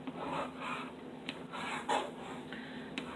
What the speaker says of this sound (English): let me just get my bone folder and burnish these down